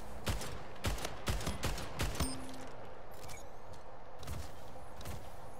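Rapid bursts of gunfire in the video game Splitgate, a string of sharp, loud shots in quick succession, then a pause and a couple more distant-sounding shots over a steady background hum.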